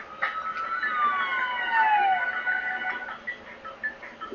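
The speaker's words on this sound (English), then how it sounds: "Those police cars, they're heading towards Oyama." Police car sirens wail from the Nintendo DS game Devil Survivor, several sweeping tones rising and falling together at moderate volume before fading, with no voices.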